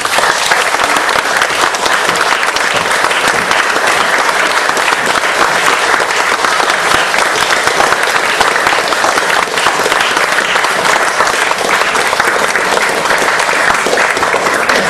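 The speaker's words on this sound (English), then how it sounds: "Warm applause for an even warmer room." Dense, loud applause from a lecture audience in a warm room, continuous and even for the full stretch with no talk over it.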